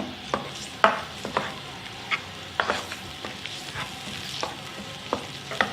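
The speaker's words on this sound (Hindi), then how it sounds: "ये डाल दी हमने ऑयल में प्याज ब्लेंड की हुई" Blended onion paste sizzles and fries in hot oil, with repeated sharp stirring scrapes in an irregular rhythm over a steady hiss, close and fairly loud, no voices.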